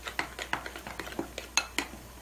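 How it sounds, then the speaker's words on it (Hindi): A spoon clinks and scrapes rhythmically against a bowl while Eno is stirred into rava idli batter, a quick run of light metallic taps close by. "पूरे पैकेट को अच्छी तरह करके इसे मिक्स कर लीजिए।"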